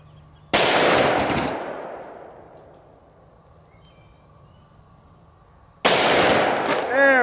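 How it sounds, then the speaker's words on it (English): Two loud, close gunshots from a magnum revolver fired at a shaving cream can, several seconds apart, each with a sharp crack and a long decaying echo. "I haven't shot shaving cream in a while."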